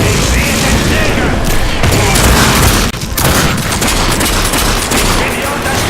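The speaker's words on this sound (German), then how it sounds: "Ich bin hier unter starkem Beschuss!" Heavy, relentless gunfire in The Darkness 2, a loud wall of rapid automatic shots and booming impacts with a brief dip midway, close and overpowering, with faint voices buried underneath.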